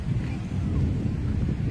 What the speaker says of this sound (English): It's a little bit windy here today.